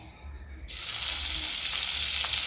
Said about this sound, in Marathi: तेल आणि बटर टाकूया.